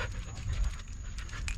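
A dog pants close by in steady, rapid breaths outdoors, the panting continuous and fairly loud, with no talking over it.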